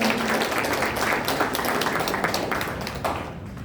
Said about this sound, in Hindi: उनके लिए एक बार फिर से जोरदार तालियां